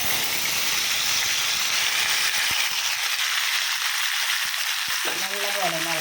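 Cauliflower thoran frying in a pan with urad dal, a steady bright sizzle filling the upper range, with scraping stirring strokes and a few short clinks near the end.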